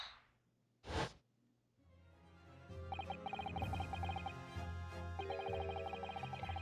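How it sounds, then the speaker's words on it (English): Venus special firework from The Great Ace Attorney game bursts once with a sharp, loud crack like a gunshot, then gives way to steady game music with a melody. "The Venus special that you sell for 600 pennies sounds like this."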